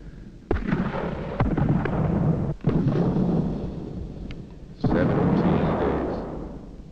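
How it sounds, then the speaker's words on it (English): Mortar bombs exploding during a 1777 siege re-enactment at Fort Stanwix, heavy booming blasts with long rumbling tails, three or four big impacts spread over several seconds, loud and close. "Them mortar bombs that scare me, the way they come down on you."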